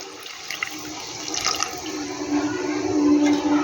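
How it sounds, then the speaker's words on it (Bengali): Lukewarm water poured into a pan of tangy, spicy mourola fish curry, a steady close rush of liquid that builds slightly louder, with no talking. "এবার আমি এখানে জলটা দিয়ে দেবো। আমি জলটা কিন্তু হালকা গরম করে নিয়েছি।"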